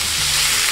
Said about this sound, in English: Now to this pot, we're gonna add those Italian sausage.